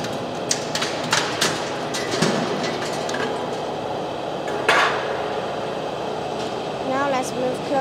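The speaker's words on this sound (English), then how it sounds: "Now we are running the flush fluted panel machine." A flush fluted wall and roof panel roll forming machine runs with a steady mechanical hum, punctuated by sharp metallic knocks and clanks as it cuts panels to 20-inch lengths; a voice speaks over parts of it.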